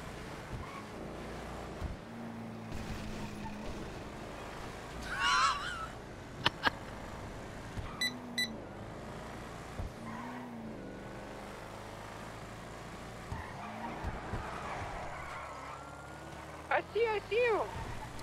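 A car driving in GTA 5, a steady engine drone running throughout under people chatting, with a few honks and brief sharp game sounds breaking through.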